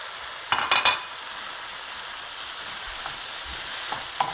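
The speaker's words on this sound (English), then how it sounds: "Now the final step, I'm going to be adding the tomatoes." Tomatoes hit a pan of frying okra with a loud burst of sizzling and clinks near the start, then settle into a steady, softer crackle of frying with occasional small taps.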